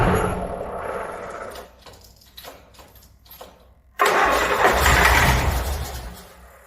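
A diesel engine cranks with quick start spray, turning over unevenly for a few seconds, going quiet, then catching into a loud, steady running roar.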